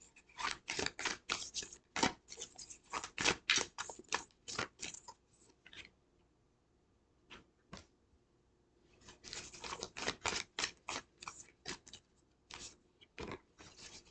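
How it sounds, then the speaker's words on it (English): Tarot cards drawn and handled close by in two bursts of quick crisp shuffling and flicking, papery snaps in rapid series separated by a quiet stretch with a few isolated card taps, no talking. "I'll start pulling out the cards"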